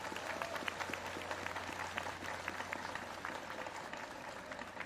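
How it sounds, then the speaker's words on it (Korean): An audience at an outdoor homecoming speech applauds loudly and steadily, a dense wash of many hands clapping throughout with faint crowd murmur beneath. "박수 한번 크게 치야죠."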